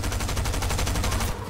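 Rapid bursts of automatic gunfire in a battle-royale shooter video game, loud and continuous with a fast, even rhythm of shots until they cut off near the end; no talking.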